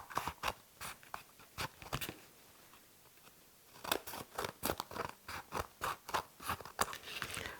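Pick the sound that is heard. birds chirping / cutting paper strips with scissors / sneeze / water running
cutting paper strips with scissors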